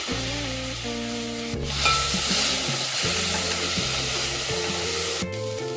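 Chopped tomato sautéing in hot oil in a pan while aloo mutter nimona is cooked, giving a steady close sizzle with clinks and scrapes of stirring throughout, with no voices.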